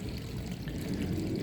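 Water pouring and trickling steadily through a koi pond filter, a continuous close gurgling flow with no voices over it.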